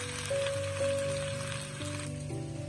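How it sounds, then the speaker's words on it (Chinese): Shanghai bok choy stir-fried in a wok, a steady close sizzle with faint tossing and a constant background hum. "把所有的上海青翻炒成视频中这样就差不多了"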